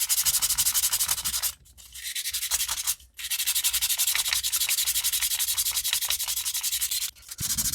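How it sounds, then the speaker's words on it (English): A Master Lock 410 padlock is rubbed with fine 320 grit sandpaper in quick, rhythmic back-and-forth strokes, loud and close, with two brief pauses between bursts and no talking. "go into sandpaper, some fine stuff. This is like 320."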